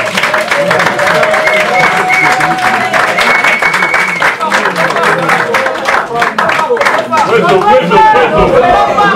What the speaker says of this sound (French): je les convie à pouvoir nous rejoindre à la tribune sous nos applaudissements